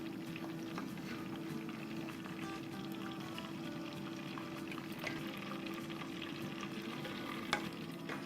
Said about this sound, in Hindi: हमें बस इसको 1 ही मिनट सौटे करना है।